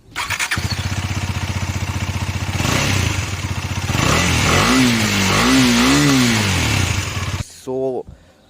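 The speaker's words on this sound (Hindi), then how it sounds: "इसका जो एग्जॉस्ट नोट है वो भी पिछले वाले BS4 वाले 250 से थोड़ा कम है" A 2021 KTM Duke 250 BS6 motorcycle starts up and idles with a steady exhaust thrum. It then revs through several rising blips, loud and close, before cutting off abruptly, and a voice briefly follows.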